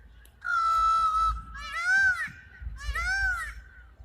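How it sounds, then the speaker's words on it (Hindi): Peacock calling outdoors near saffron and wheat fields, three loud nasal wailing cries in a row, the first drawn out and the next two shorter, close and clear over quiet background. "और ये है हमारे राष्ट्रीय पक्षी मोर, जिसके बोलने से भी इतनी मधुर आवाज़ में ये हम सब का जो है मन मोह लेते।"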